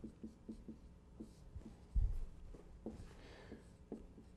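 Handwriting during a mathematics lecture, a series of soft, quick scratching strokes with a louder tap partway through, close and faint.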